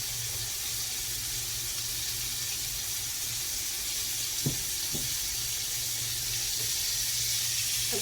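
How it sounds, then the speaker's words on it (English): Chicken frying in hot oil gives a steady, close sizzling hiss that holds throughout, broken by a couple of faint clicks or taps midway. "All right, it's frying nicely."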